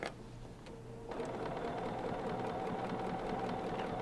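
A sewing machine runs a steady straight stitch along quilt binding on a wall hanging, a continuous close mechanical whir and rapid needle chatter starting up softly then holding an even, busy rhythm.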